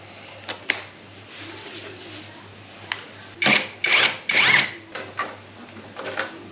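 Socket tool working a windshield screw on a Modenas Elegan 250 motorcycle, several short whirring bursts of a powered driver with brief pauses between them, close and moderately loud over a low hum, no talk.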